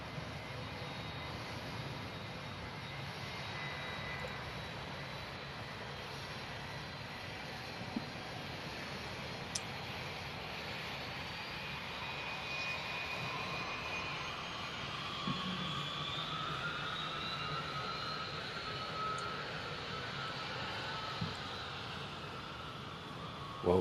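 A Turkish Airlines jet at Manchester Airport makes a continuous engine roar with a rising, whining tone sweeping upward midway, steady and fairly loud, with no talking.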